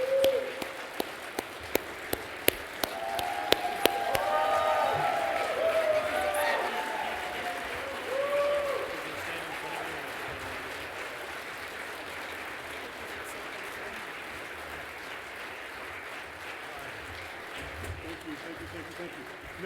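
A banquet audience at a security foundation's awards event applauds a Medal of Valor presentation with a burst of sharp claps. The applause then settles into a sustained crowd wash that fades, with someone speaking over it.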